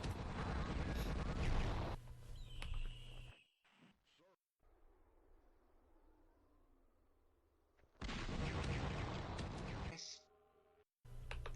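Shotgun blasts and turret gunfire in the video game Gunman Chronicles, loud harsh bursts in two clusters with a quieter stretch of low hum between them and abrupt cutoffs.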